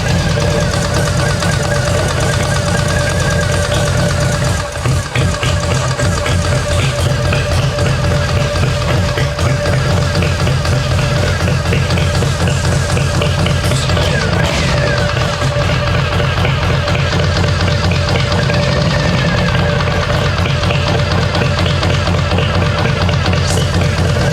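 A motorcycle engine idles steadily and close by, a constant rumbling drone that holds for the whole stretch, with a few brief shifts in tone and people talking quietly over it.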